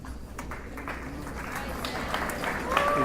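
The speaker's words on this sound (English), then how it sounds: "Please hold your applause." Applause from the audience at a high school commencement ceremony in 2018, a soft, steady patter of many hands. It is heard at a distance, with voices faintly beneath it and a slight swell toward the end.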